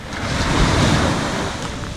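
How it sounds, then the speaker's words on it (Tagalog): Steady, rushing roar of ocean surf breaking continuously at Binmaley, Pangasinan, with wind noise buffeting the microphone throughout. "Parang tumaas yung tubig, lumakas yung alon compared dun sa kahapon pagdating namin."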